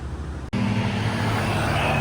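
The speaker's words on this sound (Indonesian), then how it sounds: "di bawahnya jalan raya dilalui mobil dan kendaraan bermotor lainnya" Cars and other motor vehicles roll along a road beneath a high railway bridge on the Bandung line, a steady close traffic rumble with a brief dip before the noise swells again.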